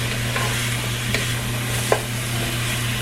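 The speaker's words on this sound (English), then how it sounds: "I put about 2 tablespoons of oil in my pan to get my peppers and onions all sauteed up" Onions and peppers sautéing in about two tablespoons of oil in a pan, a steady soft sizzle under a low hum, with a few faint utensil scrapes and one brief clink near the end; no talking.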